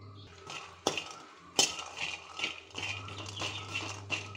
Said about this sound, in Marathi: हांव भिकणां भाजून घेता आता मातशी।